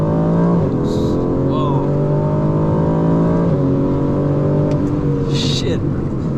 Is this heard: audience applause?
no